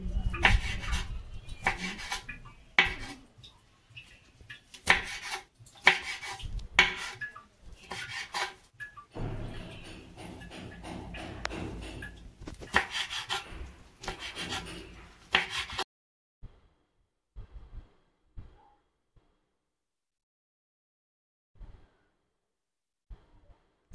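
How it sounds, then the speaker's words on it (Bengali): Pumpkin flowers being cut into small pieces with a knife on a board, a fast run of close, crisp chopping strokes that continues for a while, then thins to a few scattered taps before going quiet. "এখন আমি ছোট ছোট করে কেটে নিচ্ছি।"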